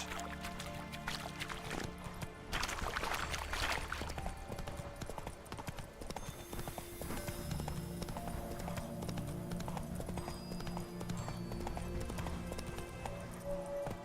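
A horse's hooves clip-clop at a steady trot in The Witcher 3, a continuous close rhythm running the whole way alongside game ambience, with no talk over it.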